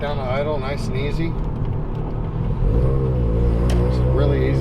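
Mazda RX7 with a street-ported rotary engine idling, a loud, steady low rumble with a choppy character heard from close by, with people talking over it.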